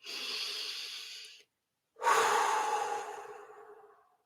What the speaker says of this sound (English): inhaling through the nose, exhaling through the mouth, then holding